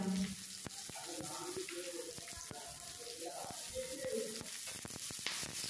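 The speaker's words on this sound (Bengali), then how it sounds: "এরপর কেটে রাখা উচ্ছে আমি এর মধ্যে দিয়ে দিলাম" Cut bitter gourd goes into hot oil with garlic browned in it, raising a continuous close sizzle and crackle of frying, broken by sharp clicks and knocks of utensils, under a faint voice.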